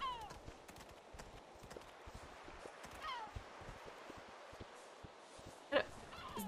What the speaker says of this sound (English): It's a horse? They don't go this fast.